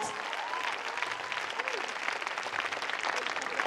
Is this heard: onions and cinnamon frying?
no